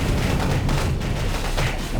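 Explosions and booming blasts in the mobile base-building war game BattleField Commander, a continuous dense rumble of detonations with no talk.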